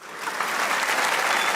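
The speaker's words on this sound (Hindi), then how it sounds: "वो तालियां बजाएं" A studio audience at a Hindi comedy talk show applauds steadily, a dense, even wash of many hands clapping close and loud through the whole stretch with no talk over it.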